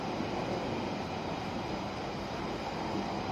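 A London Underground tube train carriage rumbles steadily along, a continuous broadband roar with no talk, heard from inside the car.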